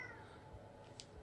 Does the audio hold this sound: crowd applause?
no